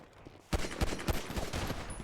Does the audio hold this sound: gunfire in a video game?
yes